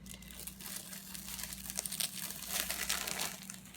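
Protective film being peeled off a Sapphire play button, a close crinkling, tearing crackle that runs continuously over a low steady hum.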